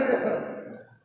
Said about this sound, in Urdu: اس سے تگڑی کھانسی تو مجھ کو آتی ہے